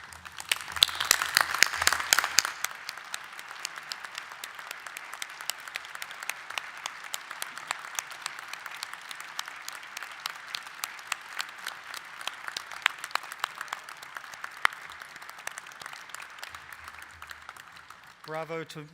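Faculty and guests at a graduation ceremony give a long standing ovation for the graduates, with dense, steady clapping throughout, a few brief shouts at the start and a voice briefly over the end.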